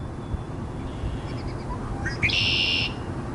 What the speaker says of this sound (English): Now this is a blackbird I've never seen before.